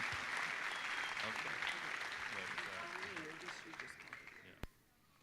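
Audience applause at a heritage commitment ceremony, sustained clapping from a large crowd that fills the hall, then tapers and stops abruptly near the end.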